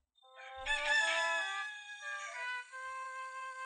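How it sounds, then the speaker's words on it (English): A rooster crows once, a loud, drawn-out cock-a-doodle-doo that rises and trails off, heard alone and clearly. "Roosters clucking."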